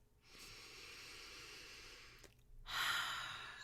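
A slow, deep breath is drawn in through the nose close to the mic, then released in a long, airy exhale, followed by a second louder rushing breath, with no talking.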